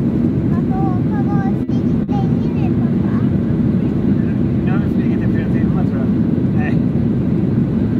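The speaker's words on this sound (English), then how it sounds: "So we're right now inside of the aircraft." Inside a passenger aircraft cabin in flight at night, a deep, constant engine roar fills the space. Faint voices murmur beneath it.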